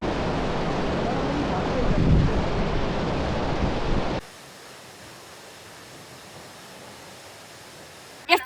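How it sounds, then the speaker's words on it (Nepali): A waterfall at Shaktikhor Jharna roars as a steady broadband rush, loud and close for about four seconds before cutting to a much quieter, distant hiss. "झर्ना त यहाँ पनि रहेछ नि"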